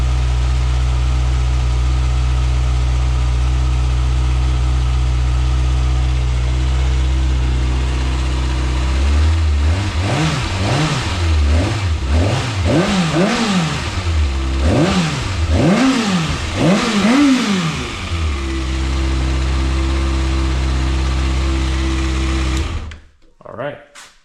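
A Kawasaki ZX6R KRT Edition motorcycle fires up from cold and settles into a steady idle, then a string of sharp throttle blips rev the inline engine up and down several times before it drops back to idle and cuts off abruptly; loud and close.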